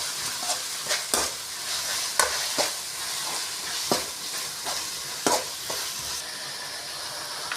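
Ginger garlic paste fries in a pan with a steady sizzle, broken by repeated sharp scraping strokes of a spoon stirring it, close and fairly loud with no talking.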